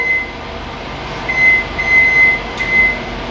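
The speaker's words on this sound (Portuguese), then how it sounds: "colocar no micro-ondas, como eu vou fazer aqui" A steady microwave hum runs throughout, with a faint high electronic tone rising and falling in short stretches over it.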